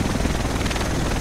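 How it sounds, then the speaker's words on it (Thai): A helicopter arrives in the video game Tom Clancy's The Division, its rotor thudding loudly and steadily throughout, with no speech over it. "The rest of us should be in this chopper."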